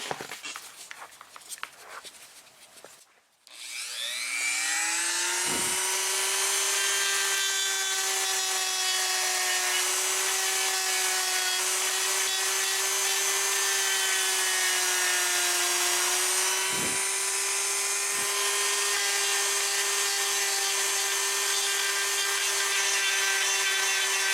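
A Dremel rotary tool spins up with a rising whine after a few seconds, then grinds fiberglass on a cracked dashboard steadily and loudly with a sustained high-pitched tone, briefly dipping twice.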